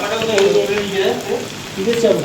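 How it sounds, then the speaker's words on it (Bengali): Shrimp fry in a pan on a home stove with a steady, close sizzle, while faint talk and tonal voices sit over it. "এই যে চিংড়ি মাছ ভাজছে এখন"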